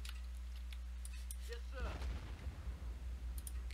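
A grenade blast and gunfire in the video game Men of War: Assault Squad 2, a sudden loud burst midway followed by rumbling battle noise, with a voice shouting in the clip.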